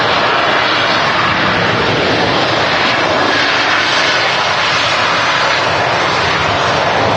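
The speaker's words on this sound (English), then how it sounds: "This Dreamliner heading down to Cancun." A Boeing Dreamliner airliner flies at Manchester Airport with a loud, sustained roar of jet engines that fills the whole span and stays steady, heard from close range without any talk.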